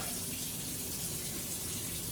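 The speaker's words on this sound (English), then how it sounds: "You need the hot water as hot as you can get it." Hot water runs steadily from a kitchen tap, a continuous hiss and splash at moderate level with no talking over it.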